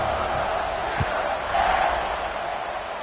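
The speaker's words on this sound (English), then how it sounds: "this crowd is buzzing after that last score" A football stadium crowd buzzing after a touchdown, a dense, sustained roar of many voices with a brief thump, steady and fairly loud.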